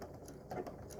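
A standard sewing machine stitches embroidery, a quiet, steady rapid mechanical whirr over a brief moment.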